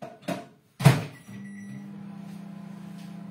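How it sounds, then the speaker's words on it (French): A microwave oven heating the second batch of French toast, a steady close mechanical hum starting after a couple of clicks and thumps and running on evenly to the end. "le temps que je mette ma deuxième partie au micro-ondes"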